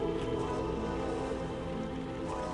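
Rain falls in the Harry Potter: Chamber of Secrets PC game, a faint steady wash of patter that stays even throughout with no distinct drops or talking.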